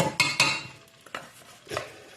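Canned tuna fried rice stirred quickly in a pan, with a spatula scraping and clattering against the metal in several sharp bursts, closely miked and with no talking.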